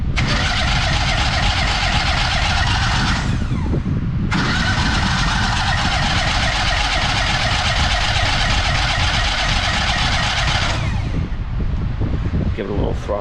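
A rebuilt Kohler CH20 twin-cylinder small engine for a Walker mower cranks, catches and runs loudly up close, with a brief dip in the roar before it picks back up and keeps running steadily.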